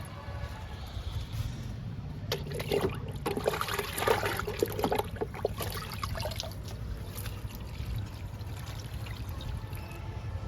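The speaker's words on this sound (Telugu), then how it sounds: "నేరేడు మొక్కకి ఇచ్చేద్దాము లిక్విడ్." Liquid fertilizer poured onto a young jamun plant, a continuous trickling, splashing stream that swells in the middle and then settles into a steady flow.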